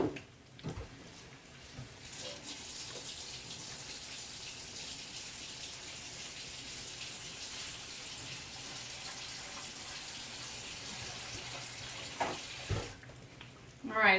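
Tap water runs steadily into a kitchen sink while floury hands are rinsed, a constant moderate gush lasting most of the stretch, with a few faint knocks near the end.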